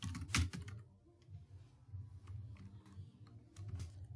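Soft clicking keystrokes on a computer keyboard as a search is typed, irregular taps in short bursts, close and quiet with no voices.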